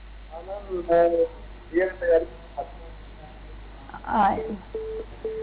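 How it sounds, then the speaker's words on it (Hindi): Telephone line tones on a failed call to a phone-in broadcast, short beeping and warbling tone bursts with gaps, ending in repeated steady beeps, with faint voice-like sounds mixed in. "लगता है मिथिलेश जी से संपर्क नहीं हो पाया"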